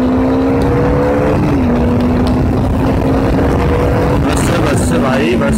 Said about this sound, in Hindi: बाइक की आवाज़ सुनो यार थोड़ी, मतलब डोमिनार भी कम नहीं है आवाज़ में।